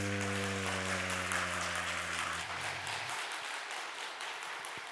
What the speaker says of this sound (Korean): 참 잘했어요 라는 마음으로 힘차게 박수